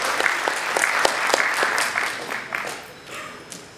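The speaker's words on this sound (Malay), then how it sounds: "Mari kita beri satu tepukan yang gemuruh atas pencapaian ini." An audience applauds at the launch of a singer's fifteenth solo Malay-language album, with close individual claps standing out over a crowd clapping steadily before it thins near the end.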